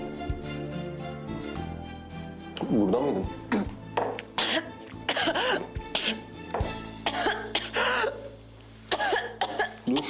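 Several short, sharp coughs and throat-clearing bursts scattered over a steady background of music and faint voices.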